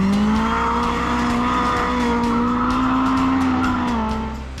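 A Lada Zhiguli rally car at the Nyíregyháza Rally 2021 drives hard with a loud, close engine howl and sustained tire squeal as it slides through a corner, fading slightly at the end.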